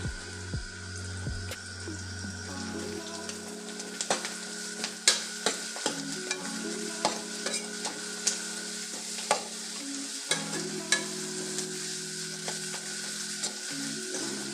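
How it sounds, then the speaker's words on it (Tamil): Ginger-garlic paste frying with onions in a pan, a soft continuous sizzle broken by repeated clicks of a spoon stirring, with a steady hum running underneath. "இப்போ இஞ்சி பூண்டு பேஸ்ட் போட்டுக்கலாம்."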